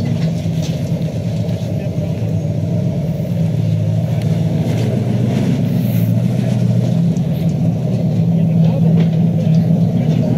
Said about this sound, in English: This has got to be the only tow truck in the world that can back up Hell's Gate.